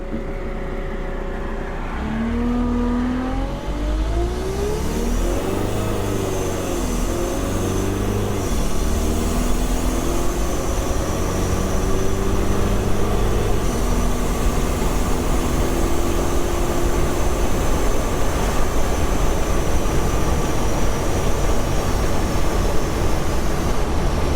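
A diesel-swapped Jeep TJ Wrangler engine runs at operating temperature, a loud, steady close-up drone whose pitch rises and dips early on before holding even.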